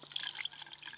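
Water trickles and splashes briefly into a pot of pumpkin curry, a faint, close liquid pour lasting about a second.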